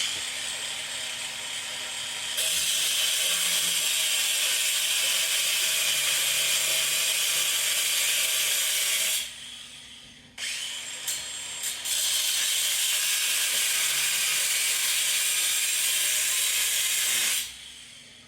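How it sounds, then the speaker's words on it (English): A metal-cutting machine slicing through a bolt gives a loud, steady hiss and grind that drops out briefly midway, then resumes and runs on evenly until it stops near the end. "Bolt cut just started."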